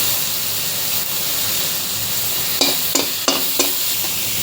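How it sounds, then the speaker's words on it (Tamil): Grated carrot sautéing with golden-browned onions in a pan: a loud, continuous close sizzle and hiss, with a few quick scraping stirs near the end. "இப்போ கேரட்டையும் போட்டு கொஞ்சம் நல்லா வதங்க விடலாம்"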